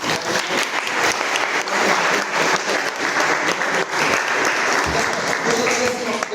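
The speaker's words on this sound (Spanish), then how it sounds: "Un aplauso nuevamente" A class audience breaks into steady, dense applause that stays loud and continuous throughout, with a few voices faintly mixed in.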